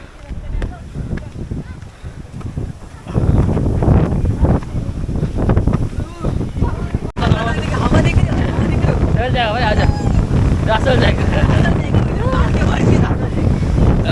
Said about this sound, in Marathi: फारच हवा चालली आहे तुम्ही बघू शकता.